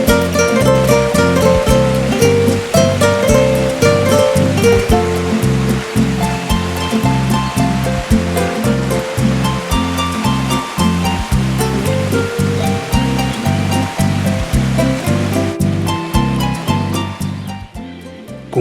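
The Linares river splitting into many small streams across its bed, a steady loud rush of flowing water that continues unbroken throughout, with a dense churning texture and no voices.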